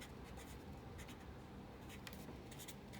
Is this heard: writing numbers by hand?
yes